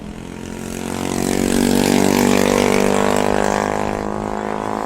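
An 80cc two-stroke motorized bike engine drones loudly during a race, its buzzing pitch swelling as it passes close and then easing off slightly.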